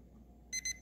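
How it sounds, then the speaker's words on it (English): An ORIA wireless fridge thermometer alarm sounds two short, bright electronic beeps in quick succession after a quiet stretch, close and fairly loud over low background hum. "The alarm's going off on alarm sensor one."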